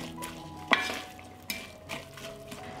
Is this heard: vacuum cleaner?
no